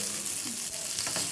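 Chickpea leaves frying in a pan for chutney, giving a short, steady hiss of sizzling oil at close range with no talking.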